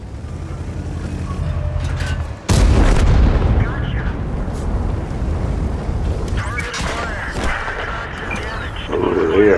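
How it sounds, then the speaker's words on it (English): Buildings blow apart in the World of Tanks video game: a sudden heavy blast about two seconds in, then a long loud rumbling roar of crumbling debris with scattered cracks and booms, while tank engine noise continues underneath. "this is a new feature here with the buildings exploding"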